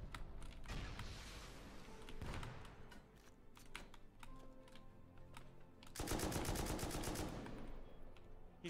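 Gunfire in the video game Rust during a PVP raid: rapid bursts and single shots crack out through the clip, densest in a sustained volley near the end, over faint background noise.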